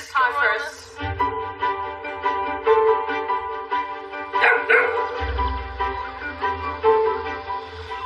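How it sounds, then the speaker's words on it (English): A Tibetan spaniel mix dog barks and yips repeatedly at close range in a steady, excited series, with people talking underneath. "How do you feel about getting this dog, Darcy?"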